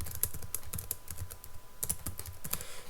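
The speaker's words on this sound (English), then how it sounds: "I'm just going to type in some English." Computer keyboard typing in MS Word 2008, with short bursts of crisp key clicks close to the mic, pausing briefly midway, no voice.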